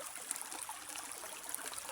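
A clear, shallow forest stream flowing on a walk, with a steady broadband rush and soft trickling splashes, heard close and alone.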